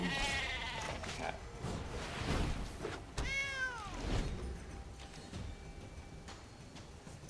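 A cat creature meows in the card game MTG Arena, a curving, drawn-out bleat-like call rising and falling midway, heard once against soft game sounds.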